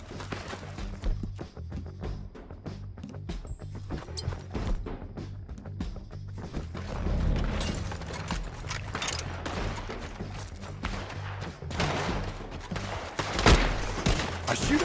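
Gunfire from a Western shootout in Red Dead Redemption 2, with many sharp shots and rapid bursts cracking over a noisy, rumbling battle bed, some closer and louder near the end.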